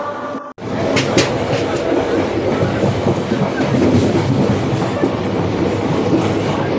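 The Teesta Torsa Express rolls along the rails at speed, a loud, steady rumble with clattering wheel beats that runs almost unbroken after a brief drop near the start.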